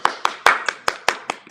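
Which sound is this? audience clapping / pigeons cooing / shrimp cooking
audience clapping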